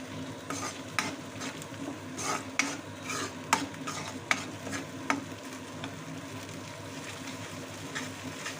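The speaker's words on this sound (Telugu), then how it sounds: "పచ్చి వాసన పోయే వరకు వేయించుకోవాలి" Ginger garlic paste frying in a pan for a dhaba-style egg masala curry, a continuous low sizzle with a spoon scraping and clicking against the pan in irregular strokes, close and moderate in volume.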